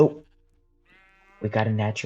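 A sheep in Minecraft gives a single bleat after a faint tone, with a person talking briefly before and then over the bleat near its end.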